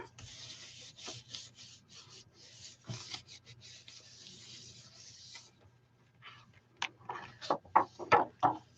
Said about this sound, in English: I'm going to turn this over and rub